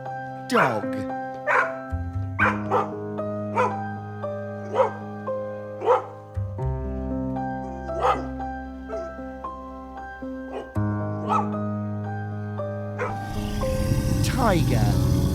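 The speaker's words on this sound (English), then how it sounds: "Dog." Repeated dog barks and yips, about a dozen sharp barks in an uneven rhythm, loud and close, with some whimpering tones and a noisy burst near the end.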